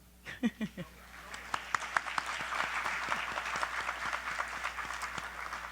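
An audience at a poetry slam finals breaks into applause, starting with a few distinct claps and swelling into a sustained, moderately distant round of clapping.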